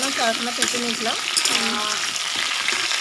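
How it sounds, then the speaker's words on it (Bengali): Potato and papaya pieces fry together in oil in a pan, a constant close sizzle running under a woman's speech for the whole stretch. "আলু আর পেঁপেটা আমি এখন ভেজে নিই।"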